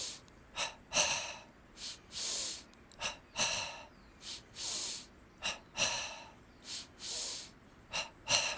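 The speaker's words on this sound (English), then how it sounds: "Double breathing in the belly." Double belly breathing in a pranayama kriya: quick paired sniffing inhales followed by strong exhales repeat in a steady rhythm, loud and close, with no speech.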